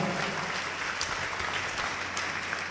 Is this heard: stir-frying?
no